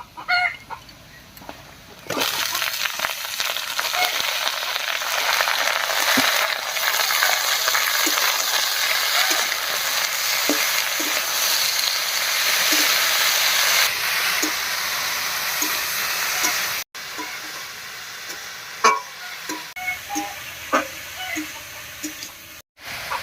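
Vegetables sizzle and fry in hot oil over chopped onions and green chillies at a village-style cooking spot, a steady broadband crackle holding for most of the clip, with rooster and hen clucks breaking through in the background.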